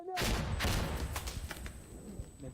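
Gunfire exchange in the video game Insurgency: Sandstorm, a loud opening volley followed by scattered sharp shots and echoing reports trailing off, with brief voice sounds faintly underneath.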